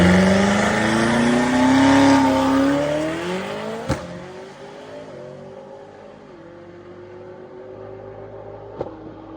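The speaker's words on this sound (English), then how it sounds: "This is the US's fastest BMW M5, right?" A 1356 bhp BMW M5 built for street drag racing revs hard and accelerates, its engine note climbing loudly then easing into a fading drone, with a sharp pop near the middle and another near the end.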